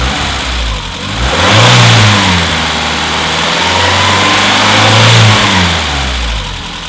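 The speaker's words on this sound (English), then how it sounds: "And that's it, it's running on LPG. I'll just flip the throttle a bit." The engine of a 1992 Renault Trafic van converted to run on LPG revs up and down twice under throttle blips, a loud, close, continuous drone that rises and falls over a steady idle.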